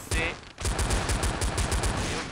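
Rapid gunfire in the video game Blood Strike rattles in a steady, fast burst of repeated shots, loud and close, after a brief single shot at the start.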